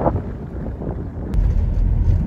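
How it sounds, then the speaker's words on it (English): Strong coastal wind by a rough sea in the Scottish Highlands roars and buffets the microphone steadily, with a deeper gust swelling partway through. "if you can hear me above this wind."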